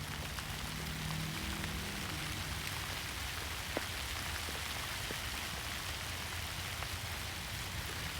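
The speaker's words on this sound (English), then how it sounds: "As the rain falls." Rain falls in a steady, dense hiss, even and continuous throughout, with scattered faint drop ticks and no voices.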